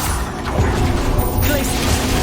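The Bombarda spell goes off in Hogwarts Legacy as a loud, heavy crashing blast with a rumbling, debris-like body. It lasts about two seconds.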